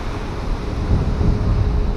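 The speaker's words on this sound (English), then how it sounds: "you can see the waves are coming right up to the cliff" Sea waves surging right up against the cliffs on the Yorkshire Jurassic coast, a continuous low roar of surf mixed with wind buffeting the microphone, swelling louder midway.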